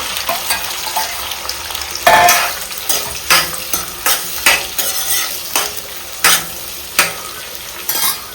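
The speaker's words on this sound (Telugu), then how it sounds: "ఉల్లిపాయలు వేసేస్తున్నానండి" Chopped onions sizzle in hot oil in a pan for a mutton curry while a spoon scrapes and stirs them in a steady run of about a dozen sharp, close strokes over the constant frying hiss.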